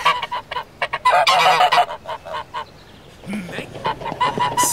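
Geese honk loudly and repeatedly nearby in a Sherlock Holmes audio drama, a rapid clamor of calls rising into a dense burst, easing briefly and then resuming.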